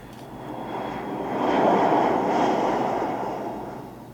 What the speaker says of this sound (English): So right here, I add in the sound of a plane.